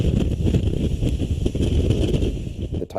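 Heavy Super Typhoon Haiyan winds roar and buffet the microphone in the Philippines, a continuous low rumble, loud and close, with gusts surging throughout.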